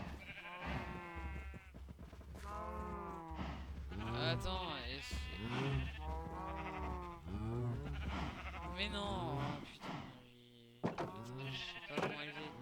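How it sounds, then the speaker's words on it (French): Sheep bleat repeatedly in Minecraft, a string of wavering, nasal cries overlapping one another up close, while someone speaks French briefly over them near the end. "Bonjour les moutons."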